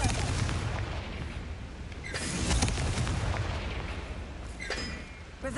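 Confringo fire spells blasting in Hogwarts Legacy, with repeated booming explosions and crackling debris over a rumbling low end. Two sharp blasts stand out against a continuous roar.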